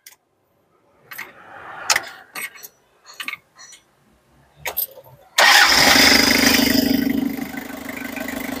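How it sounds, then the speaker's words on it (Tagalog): A 2003 Toyota Super Grandia van engine cranks and catches after a series of scattered clicks and short bursts of talk, then settles into a loud, steady idle that stays close and even. "Parinig natin yung kanyang makina."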